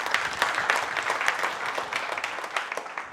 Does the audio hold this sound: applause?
yes